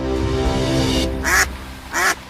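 Two short, loud quacks from a duck, close and distinct, following a steady droning tone.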